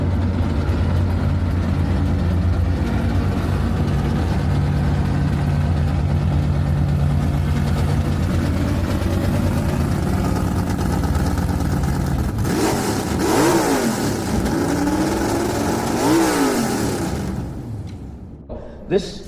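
An old muscle car's big V8 engine idles with a deep, lumpy rumble at an auto show, then revs up and down several times, loud and close, before settling and cutting off.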